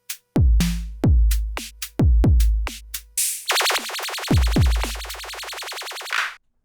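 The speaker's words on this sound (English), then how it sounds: "There's just so much you can do with the PO32 Tonic." Pocket Operator PO-32 Tonic drum machine paired with another unit: punchy kick hits and short bleeps, then a fast rapid-fire tone burst over repeating kicks, loud and close with no talk.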